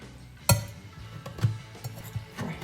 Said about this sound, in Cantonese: 咁依家咧就切啲芋頭